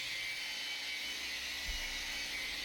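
A car paint polisher works on a panel to remove topical scratches and marring, giving a steady, faint, high-pitched whir with one brief low bump partway through.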